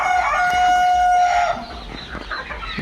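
Egyptian Fayoumi chickens on a farm cluck while a rooster crows loudly and close by at the start, followed by softer scattered clucking and farmyard noise.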